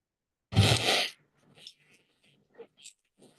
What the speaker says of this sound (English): they stop being echolocation clicks and they become burst pulse sounds